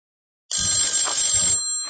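After a brief silence, a loud, bright telephone bell rings continuously for about a second and a half, then fades slightly.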